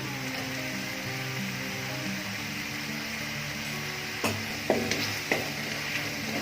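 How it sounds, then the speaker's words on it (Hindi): Green capsicum strips fry in a hot pan for Mongolian chicken, a steady close sizzle with a few sharp utensil knocks and scrapes near the end. "थोड़ा सा फ्राई करेंगे शिमला मिर्च को।"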